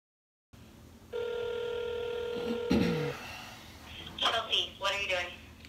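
A phone line plays transfer tones, a steady tone followed by a short ringing burst, while a call is transferred, before voices begin talking.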